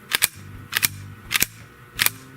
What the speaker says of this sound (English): super, super quiet shooting subs out of either of these cans